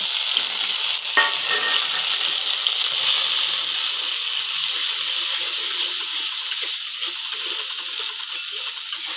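Ground pumpkin leaf paste sizzles loudly in hot oil tempered with black cumin, a dense continuous hiss near at hand, broken by one brief clack early on, with no speech.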